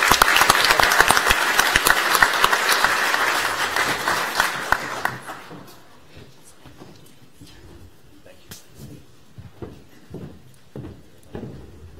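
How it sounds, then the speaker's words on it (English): An audience at a school board meeting applauds students, a dense, loud burst of clapping for about five seconds that thins into scattered, isolated claps and light movement. "One more round of applause for AVID students."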